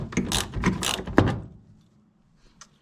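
A ratchet and socket work a bolt loose on the heater box of a 1977 Chevy Blazer without A/C, making rough close-up ratcheting bursts and a sharp snap, then near silence with one faint click.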